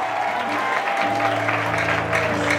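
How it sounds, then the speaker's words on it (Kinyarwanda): A church congregation claps together in sustained, dense applause that fills the whole stretch, with steady tonal voices or music humming underneath. "Ariko dukomere Imana amashyi we."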